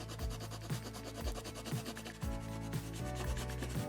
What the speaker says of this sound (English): Just doing a very light rub over that background.